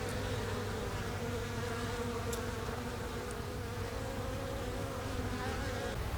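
Honeybees buzzing densely around a surviving hive at an apiary, a continuous close, even drone with steady tonal hum and no talking.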